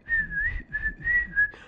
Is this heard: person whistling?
yes